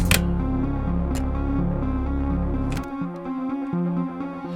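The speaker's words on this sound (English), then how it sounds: "I'm sending the sound through the space echo, as you can hear." A synth played through a space echo effect, sustained tones with repeating echoes that trail off after the notes stop, close and fairly loud.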